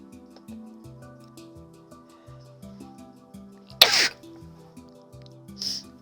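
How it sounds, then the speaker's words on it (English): A single sharp sneeze bursts out over steady background music, followed moments later by a softer, breathy sniff or exhale. "Apparently now I sneeze."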